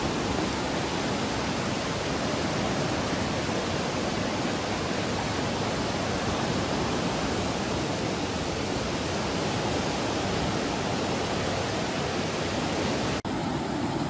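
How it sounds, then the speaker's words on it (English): River water flowing by a riverside in nature, a steady broad rushing wash that stays even and continuous throughout, with no voices. "immersing in this peaceful sounds of the river water"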